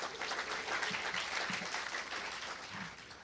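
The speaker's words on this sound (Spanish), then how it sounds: "les dejo con Miguel Guirao, a quien le damos un fuerte aplauso, por favor" Audience applause welcoming a speaker to a campus lecture on Metasploit and computer security, fairly quiet, continuous clapping across a few seconds with a few low thuds underneath.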